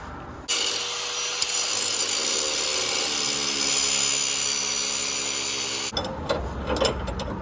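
Metal grinding with a power grinder on a Dodge 24-valve Cummins project truck hauler, a loud continuous abrasive whine lasting over five seconds before cutting off into clattering shop noise.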